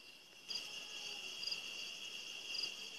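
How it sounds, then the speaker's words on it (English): Crickets chirp steadily at night outdoors in New Hampshire, a continuous, high trilling chorus, moderately loud and close, with no other sounds. "it's nice and dark, and the crickets are singing."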